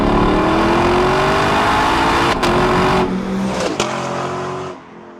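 A Lexus LC 500 V8 engine roars loudly at sustained high revs, pitch climbing slightly, then the revs drop away and the sound fades near the end.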